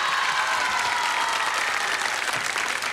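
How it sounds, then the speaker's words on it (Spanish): Sustained audience applause for a contestant named Sebastián at a televised tribute show competition, dense steady clapping throughout at an even loud level. "Aplausos para Sebastián."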